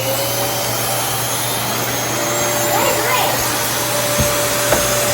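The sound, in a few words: vacuum cleaner running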